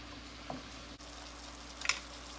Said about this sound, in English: we're gonna let it cook for about 2 minutes before we flip our salmon